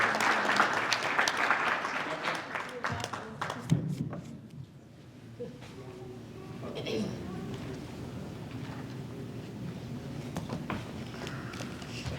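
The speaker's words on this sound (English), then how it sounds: "let's give them another round of applause" Applause at a Lawton city council meeting, a loud burst of clapping that fades after a few seconds, followed by quieter room murmur, shuffling and a few voices talking.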